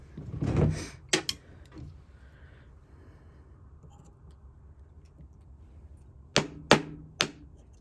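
Hammer taps on an old Walden ratchet under restoration, a few sharp metallic knocks near the start and another short cluster of taps near the end, with quiet gaps between.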